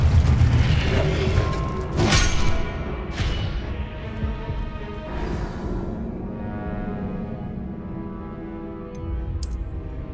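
A fiery Confringo spell explodes in the Hogwarts Legacy game with a deep, loud boom and crackling burst, followed by rumbling magical blasts and a lingering whoosh that slowly fades, ending with a brief bright chime.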